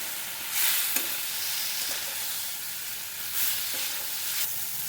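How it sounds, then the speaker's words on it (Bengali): Eggs frying in a pan with Kashmiri chilli and spices, a steady close sizzle broken by repeated scraping stirs of the spatula, no voices. "ডিমগুলো দিয়ে একটু ভালো করে কষিয়ে নেব"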